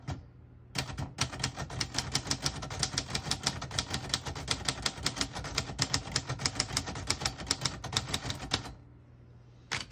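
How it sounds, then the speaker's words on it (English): Rapid, steady clacking of a 1956 Royal Quiet De Luxe portable manual typewriter, keys striking in a quick continuous rhythm, close and clear, stopping near the end. "I'll type a sentence in red on the next line."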